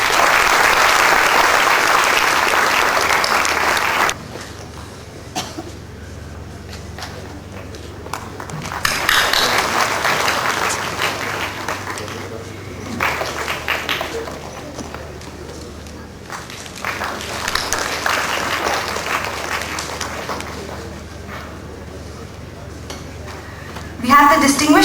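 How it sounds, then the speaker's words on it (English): Audience at an endowment lecture for Professor Marc Galanter breaks into loud sustained clapping that ends abruptly, followed by quieter room sounds with intermittent bursts of applause and talk. "Can we have a huge round of applause for him?"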